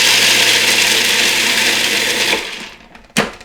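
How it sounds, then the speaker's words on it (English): A food processor blending garlic and pine nuts, a loud continuous grinding roar that winds down after a few seconds, followed by a short clunk. "Right now I'm going to throw in some garlic and pine nuts into my food processor"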